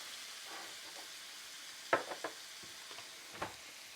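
Tomatoes fry in a pan with a steady soft sizzle. A few sharp clinks and scrapes of stirring come through close by, and nobody speaks.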